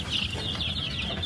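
A backyard flock of about 13 chickens clucking and chattering together continuously, close by, a busy flock sound with a steady low rumble underneath.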